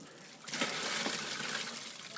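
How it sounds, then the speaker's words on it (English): Water trickles and splashes steadily out of the bottom of a biomass log press as wet pulp is squeezed, a continuous close pattering stream with no talk. "I don't know if you can see it, the water dripping out of the bottom."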